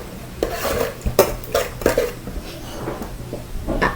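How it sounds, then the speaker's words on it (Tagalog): A spoon scrapes and clanks around a pot while a Filipino dish is stirred, several irregular metallic strokes close by with short pauses between them. "At ihalo-halo muna natin guys."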